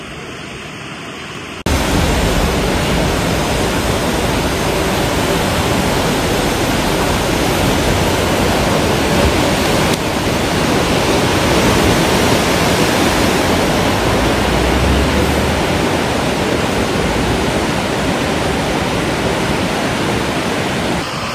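Floodwater of the swollen Teesta river in North Sikkim rushes loudly and steadily after heavy rain, a dense continuous roar like a waterfall that surges in at the start and holds unbroken to the end.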